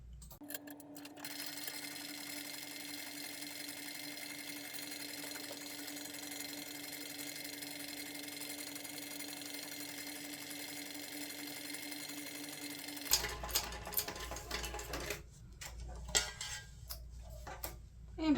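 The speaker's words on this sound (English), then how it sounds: "we need to top stitch along the edge around the base and the sides at 1/8" A sewing machine runs a long, steady topstitch along the edge of a messenger bag, a fast even whir and tick that stops partway through. Scattered handling clatter and knocks follow.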